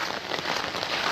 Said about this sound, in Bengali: গতকালকে থেকে যে বৃষ্টি হচ্ছে আগের ন্যায় পানি উঠে আসতেছে